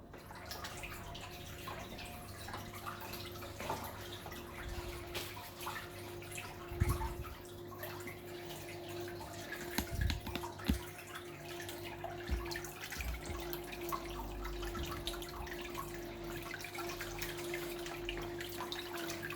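Saltwater aquarium equipment hums steadily while water trickles and drips nearby, with a few louder splashes and knocks in the middle, low-level and with no voices.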